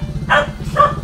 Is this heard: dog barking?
yes